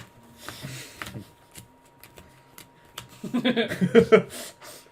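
Playing cards are shuffled during a Yu-Gi-Oh! cube draft, a few light riffles and taps early, then a louder, close burst of rapid riffling near the end, with some voices and laughter around.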